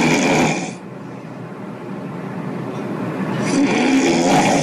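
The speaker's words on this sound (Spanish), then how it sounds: "Vean el ronquido de este paciente." A patient snores loudly during a sleep study, with one long rough breath at the start and another building toward the end, separated by a quieter pause.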